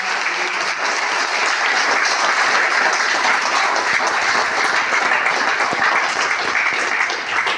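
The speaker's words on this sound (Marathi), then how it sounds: "एकदा जोरदार टाळ्या वाजवल्या पाहिजे." Loud, continuous applause from a crowd at a workers' gathering, many hands clapping in a dense, even roar that holds steady throughout without voices.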